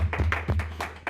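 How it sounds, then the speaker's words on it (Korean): A small church congregation claps in thanks to God at the close of a worship service, a few loose, uneven hand claps close by, sparse rather than a full ovation. "우리 하나님 앞에 박수로 우리 감사하겠습니다"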